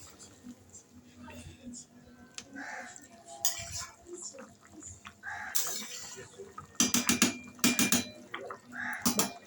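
A thin chicken and potato curry stirred in a pot, close clinks and scrapes of a spoon against metal with wet sloshing, building into bursts of rapid clatter near the end while a voice speaks quietly.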